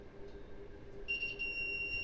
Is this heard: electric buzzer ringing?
yes